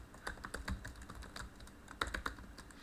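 Fingers tap out lowercase text on a computer keyboard during database data entry, a soft run of irregular clicks with brief pauses, close and fairly quiet, with no talking.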